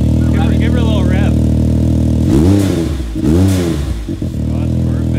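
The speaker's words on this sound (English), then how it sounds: "Give her a little rev." A Can-Am Maverick X3 fitted with a new custom exhaust idles with a deep steady drone, then is revved twice in quick swelling blips before settling back, loud and close, with a voice talking briefly at the start.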